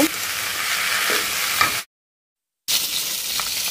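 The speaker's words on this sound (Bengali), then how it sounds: "এই জন্য মাছটা আর কি ভাজতেছি এখানে।" Whole taki fish frying in a pan with a steady, close sizzle and crackle, cut by a short stretch of dead silence before the sizzling resumes.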